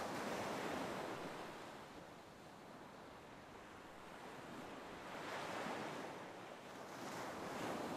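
Ocean waves surge and wash in a steady, loud roar of surf with wind noise, swelling and easing in slow cycles with no voices.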